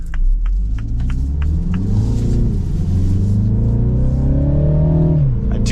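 A 2024 Mini Cooper S Clubman All4's engine revs up steadily, its pitch rising as it accelerates, then drops off near the end; loud, close, with no talking.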